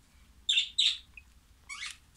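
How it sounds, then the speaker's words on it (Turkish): Pet budgies and zebra finches in a cage chirping close by, with two quick bright tweets followed by a short rising call, over a faint low background hum. "kuşların sesine bak ya"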